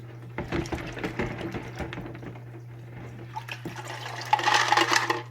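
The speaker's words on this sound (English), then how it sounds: "all you have to do is take it and rinse it out in this same tank water" Aquarium water sloshes and splashes unevenly over a steady low hum, rising into a brighter, busier splashing near the end as Fluval 306 canister filter media is rinsed in tank water.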